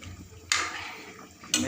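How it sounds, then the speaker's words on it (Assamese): Pieces of fish fry a little at a time in a pan. A low, quiet background is broken by two sudden bursts of bright sizzling about a second apart, each fading gradually. "এইটো মাছ অলপ অলপ কৰি ভাজি থৈছোঁ"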